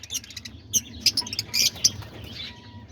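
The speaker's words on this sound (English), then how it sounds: "those are all my little lovebirds" A flock of pet lovebirds, about 23 birds, gives sharp, high chirps and squeaks in scattered bursts at close range, with brief pauses between calls.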